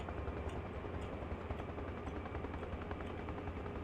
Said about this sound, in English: Vanilla helicopters are awesome.